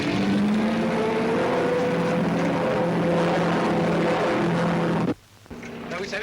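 Propeller engine drone of a prototype aircraft in flight, a loud steady hum with a wavering pitch that holds for about five seconds and then drops away abruptly to near quiet.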